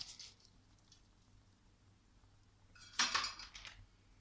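Washed and drained lentils poured into a cooking pot, a short rattling patter and clink of grains against metal after a stretch of quiet room hum, close and fairly soft, with no speech.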